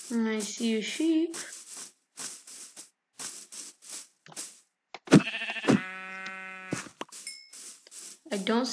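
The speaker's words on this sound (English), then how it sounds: "And I see a sheep." Sheep bleats from the Minecraft video game come as a few short, clear cries with a harmonic tone, mixed among game sound effects and a person talking before and after.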